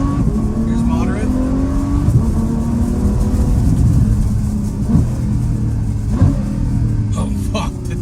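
A Ferrari F12 Berlinetta V12 with a Valvetronic exhaust in moderate mode drones from inside the car at a steady cruise, its deep engine note shifting slightly in pitch as it rolls through traffic.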